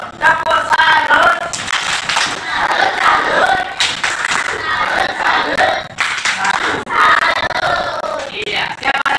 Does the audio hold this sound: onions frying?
no